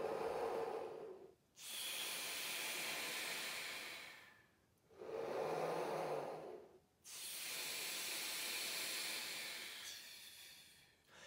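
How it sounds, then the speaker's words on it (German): Slow breathing exercise with warm air drawn in and let out: long, loud airy breaths alternating, roughly four drawn-out inhales and exhales close up, each lasting a couple of seconds with short gaps between. "Genussvoll warme Luft ein- und ausatmen."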